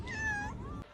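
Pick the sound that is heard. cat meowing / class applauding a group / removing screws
cat meowing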